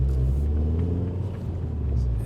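A Mini JCW GP car engine idling with a steady, deep rumble inside the cabin while the driver shifts gears, its low drone continuous and fairly loud throughout.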